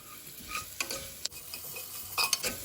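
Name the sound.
stirring spices in frying pan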